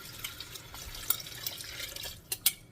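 Chicken broth made from bouillon powder and water is poured into a pot for chicken and mushroom soup, giving a soft, steady liquid trickle with a few small splashes near the end, fairly quiet and without talk.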